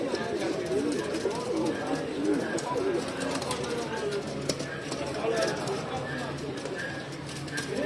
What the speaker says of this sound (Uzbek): Chiroyli kaptar ekan.